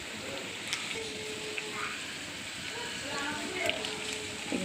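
Eggs sizzle in a hot pan while chow mein is cooked, a steady soft crackle with faint frying pops, low in level and without speech.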